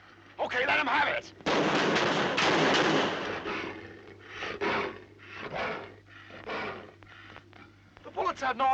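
Guns firing at a creature in a 1956 science-fiction film, with bursts of loud, harsh shots in a rough series and pauses between them, close and dominant, amid shouting voices.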